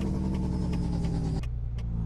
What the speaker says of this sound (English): And just Jake break down all the way through the gears.